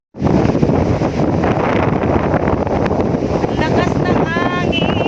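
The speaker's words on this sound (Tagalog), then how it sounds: "Lakas ng hangin, buhay probinsya si Lola." A loud, steady roar of wind at the beach batters the microphone throughout, with faint voices surfacing near the end.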